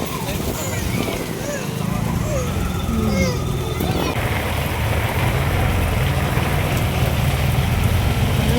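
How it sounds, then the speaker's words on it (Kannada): Heavy rain pours steadily during a Muharram gathering in Mudgal, a dense continuous hiss growing fuller partway through, with people talking over it. "ಎಲ್ಲ ಜೋರು ಬರ್ತಾ ಇದೆ ಮಳೆ ನೋಡಿದ್ರೆ"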